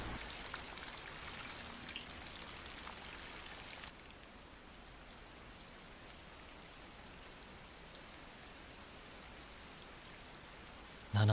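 Heavy rain in an anime episode pours as a dense, steady hiss that carries on without a break, with a slight drop in level partway through and no talk.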